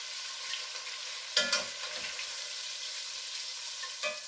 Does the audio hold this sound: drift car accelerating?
no